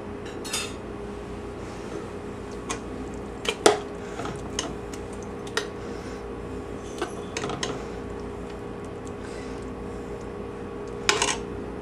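Vegan chili being served, with a few sparse clinks and knocks of utensils against dishes, spaced apart over a steady quiet background and no talking.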